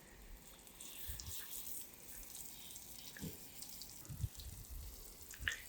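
On a hot day, water is sprayed from a hose to shower horses, giving a faint, steady hiss with irregular splashes and a few sharper spatters.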